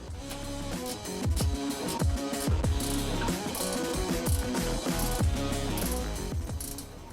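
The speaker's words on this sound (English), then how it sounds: "We have to tighten the nut and bolt underneath the light bar." A 9/16 wrench and 7/32 hex key tighten the nut and bolt under a 40-inch Rigid Industries LED light bar on a Ford F-150 Raptor, producing loud, rapid ratcheting clicks in quick repeated strokes.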